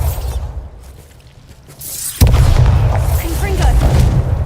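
A Bombarda spell goes off in Hogwarts Legacy. A sudden loud blast hits midway, then a sustained roaring rumble with crackling debris, after quieter game ambience. A voice can be heard at points.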